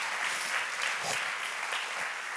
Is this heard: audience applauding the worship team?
yes